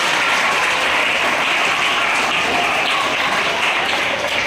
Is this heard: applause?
yes